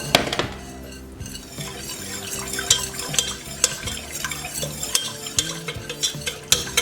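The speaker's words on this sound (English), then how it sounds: "So this is milk mixed with the heavy whipping cream. Just slowly mixing this in." Milk and heavy whipping cream are stirred into a mac and cheese sauce in a pot, with rhythmic scraping and knocking of the utensil against the pan over a soft bubbling.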